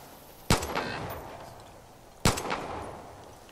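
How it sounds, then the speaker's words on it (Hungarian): Two sharp gunshots ring out in the video game Far Cry 5, about 1.7 seconds apart, each a loud crack with a short echoing tail over quiet background. "Csak a lövések azok nem annyira szerencsések."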